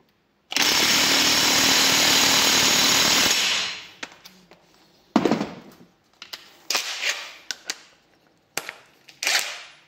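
A Parkside PPDSSA 20 Li A1 cordless impact wrench hammers loudly in one continuous rattling burst of about three seconds, followed by scattered clicks and clunks of handling.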